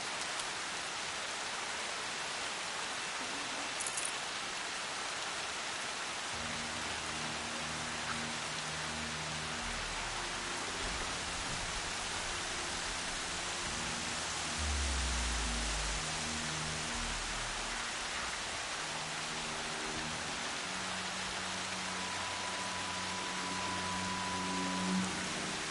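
Rain falls steadily in the open world of the video game Horizon Zero Dawn, a constant hiss of drops on surfaces, with low game music tones rising beneath partway through and no speech.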